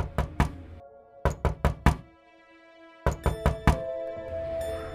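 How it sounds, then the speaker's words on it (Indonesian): Knocking on window glass as a horror-story sound effect: three quick groups of three to four sharp raps separated by pauses, each leaving a faint ringing tail, close and clear with no voices. "Suara ketukan itu berlangsung hingga jam 4 subuh."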